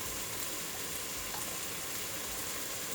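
Minced garlic sautés in a hot pan with a steady, close, even sizzle that holds for a few seconds with no pauses and no voices.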